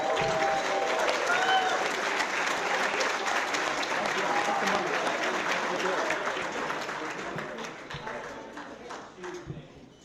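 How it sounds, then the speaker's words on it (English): An audience at a college hall of champions ceremony applauds its 2022 inductees, sustained dense clapping that holds strong for several seconds and then gradually thins and fades toward the end. "Let's give them all another well-earned"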